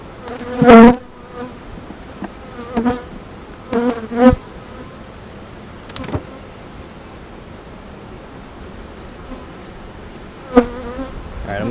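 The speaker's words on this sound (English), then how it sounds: "I'm going to smoke these bees down into the box here" Honeybees hum in a steady, dense buzz around an open backyard hive during a spring inspection, with a few louder bees passing close by and occasional rustling handling noises.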